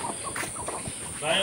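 Sonali hybrid chickens on a small poultry farm give soft, scattered clucks and low fowl calls over a steady background hiss, with faint voice-like sounds mixed in.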